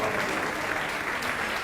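A church congregation claps loudly and continuously at a televised evangelical service, with a thick wash of many hands and a faint murmur of voices under it.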